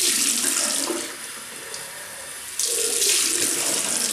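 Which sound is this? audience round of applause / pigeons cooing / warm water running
warm water running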